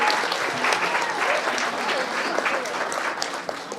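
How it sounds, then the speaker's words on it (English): A crowd at a presidential event applauds servicemen and women in uniform, a dense continuous wash of clapping from many hands that carries on evenly. "Why Calm down. don't we give a round of applause to all the servicemen and women who are with us here today"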